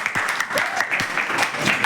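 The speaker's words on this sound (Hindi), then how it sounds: "तो जोरदार तालियां बजा दीजिए।" A classroom of students claps for a correct quiz answer: a brief, dense burst of close applause with many overlapping hand claps, under faint chatter.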